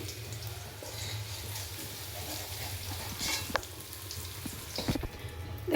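Vegetables fry in hot oil with a steady close sizzle and crackle, with occasional scrapes and clinks of stirring rising toward the end.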